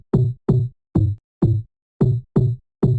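Heavy distorted bass loop built from a filtered, EQ'd white noise sample, seven punchy hits with quick fade-outs in a steady repeating rhythm, loud and alone.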